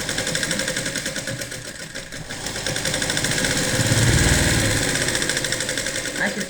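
A sewing machine stitches fabric for an unlined katori blouse, giving a rapid, steady mechanical whirring and chattering that swells and eases, close by, while someone talks over it.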